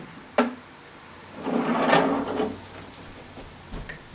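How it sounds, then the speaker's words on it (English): On a Rotovac CFX carpet extractor, a sharp click from a latch being undone, then a longer scraping, rubbing rasp as the plastic top half is lifted straight up, with a faint knock near the end. "to take the CFX apart, just undo these two latches and lift the top half straight up"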